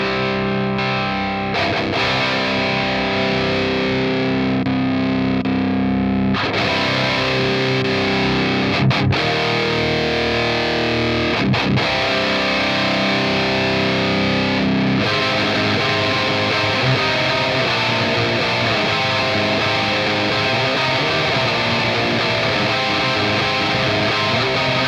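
Electric guitar played through a Spooky Vibes Night Terror pedal with the drive turned up high, giving a loud, saturated, heavily distorted tone with sustained chords and riffs throughout, no talking.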